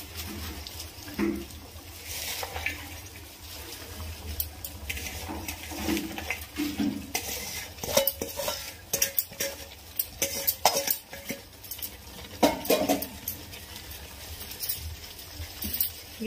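Prawn curry with freshly added sorrel leaves is stirred in a pot, a ladle scraping and clinking against metal in irregular bursts over a soft bubbling background, close with no talking.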